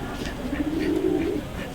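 Pigeons held in a loft coo nearby, a low, soft, throaty rolling call swelling in the middle over a steady background hiss.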